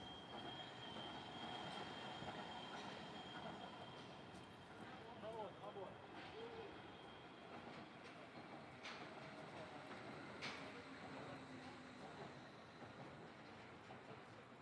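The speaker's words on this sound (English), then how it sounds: "Oh, train." A Wuppertal Schwebebahn suspended monorail train rumbles past close by above the river Wupper, with a steady rolling roar, brief metallic wheel squeals, and voices talking underneath.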